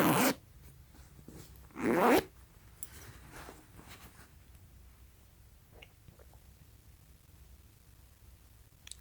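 A YKK zipper on the deep inner pocket of a vintage The North Face jacket is pulled in two quick, close rasps, followed by quiet handling rustles.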